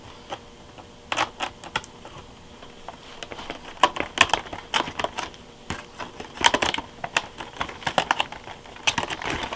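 Blades cut through the plastic blister packaging of a 2005 Crosman/UHC mini electric air gun, giving close, irregular crinkly snips and clicks that come in quick clusters, with no talking.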